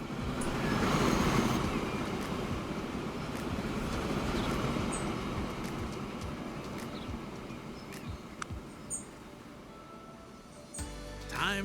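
A train rolls along in the Transport Fever 2 campaign set in colonial eastern Java, a steady low rumble with soft rail clatter and faint ambient bird chirps, continuous and moderately loud throughout.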